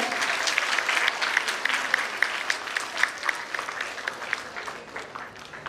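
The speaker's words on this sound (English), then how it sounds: "I want each one of you to give them a huge round of applause to welcome them" A big round of applause from a school assembly welcoming the new student council at an investiture ceremony, steady dense clapping for the whole stretch that thins slightly toward the end.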